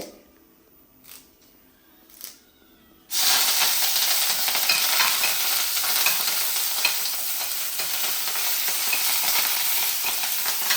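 Curry leaves dropped into hot oil while frying sesame chutney powder burst into a sudden loud, steady sizzle after a few seconds of quiet clinks, hissing continuously until the end.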